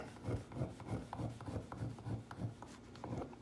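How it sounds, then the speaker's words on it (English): A stiff carding brush scrubs across an aluminized metal file, a rapid back-and-forth rasping in regular strokes about every third of a second, close and steady with no talking. "We'll hit this with the carding brush again."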